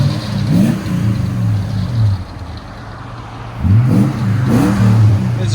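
A 2003 Toyota Tundra with a 4.7L V8 and a Borla ProXS exhaust rumbles at idle outdoors in the cold, with deep revs swelling at the start and again near the end, loud and close.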